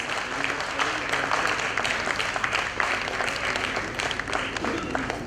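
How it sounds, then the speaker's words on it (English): Audience at an International Women's Day event applauding winners and judges, steady dense clapping that fills the whole stretch at moderate distance. "Let us give a big round of applause to all our winners and all our judges"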